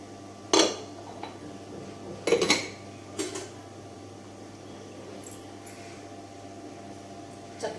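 Boiled moong dal being mashed and mixed with salt in a pot, heard as a few sharp utensil clinks and scrapes against the metal pot, spaced out over a quiet hum.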